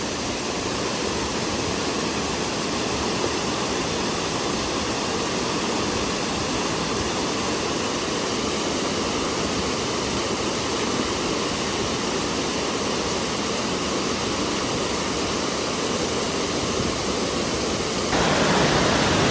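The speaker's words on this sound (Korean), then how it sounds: "뒤에는 폭포가 있고" A waterfall pours behind a summer campsite as a loud, steady broadband rush with no pauses, close and constant for the whole stretch, with a brief shift in tone at the very end.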